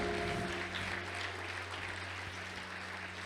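A church congregation applauds in gratitude during a sermon, a steady wash of many hands clapping together with a low hum underneath, moderately distant in a large room.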